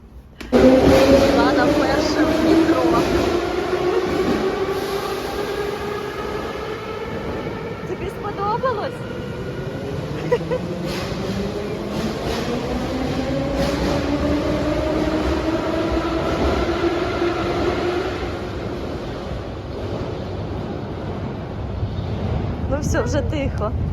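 A metro train rolls along with a steady rumbling roar and rising, whining motor tones, loud and close throughout, with faint voices now and then.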